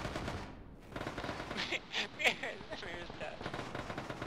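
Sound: gunfire in Arma video game (ShackTac)

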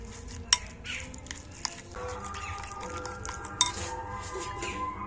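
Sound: stirring flour batter with water using a spoon

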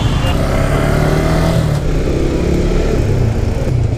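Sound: Yamaha MT-15 motorcycle engine

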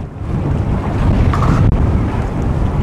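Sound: strong wind at sea, rocking boat

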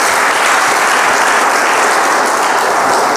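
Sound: audience applause

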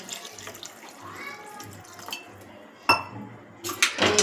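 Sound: pouring water into homemade sugarcane juice mix

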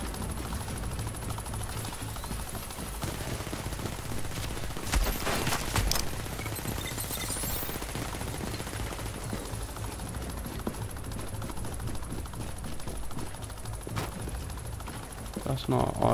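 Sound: turret shooting at player in Tom Clancy's The Division video game

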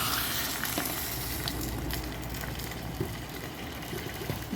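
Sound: curry sizzling in a pan as water is added

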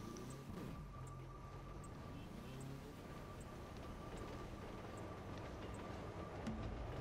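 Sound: train passing a railway crossing

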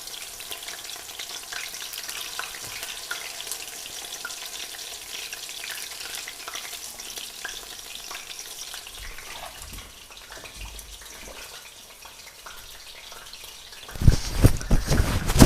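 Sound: wild garlic leaves in batter deep-frying in oil

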